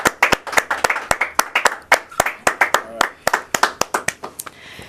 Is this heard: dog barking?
no